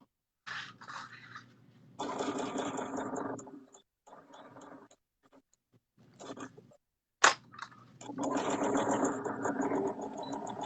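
A sewing machine stitches all the way around a mini moto bag seam at a 1/2 inch allowance with a stitch length of 3, running in several close, steady bursts separated by short pauses.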